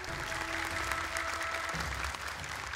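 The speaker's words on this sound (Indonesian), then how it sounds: "Boleh tepuk tangan untuk mereka." A studio audience at an Indonesian Quran memorization contest applauds the participants, a steady dense clapping that holds throughout.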